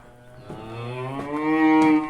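A cow lets out one long, loud moo close by, its pitch rising and swelling toward the end, with no talking.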